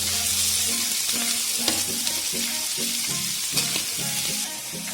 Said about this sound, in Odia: ପିଆଜଟିକୁ ଭାଜିବା ସମୟରେ ହାଇ ଫ୍ଲେମ୍ରେ ପିଆଜଟିକୁ ଭାଜିବା।